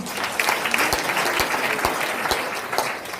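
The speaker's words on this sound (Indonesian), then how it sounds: "Tepuk tangan dulu dong." Steady applause from a crowd at an Indonesian sales training event, dense clapping throughout with a few sharper claps standing out, loud and fairly close.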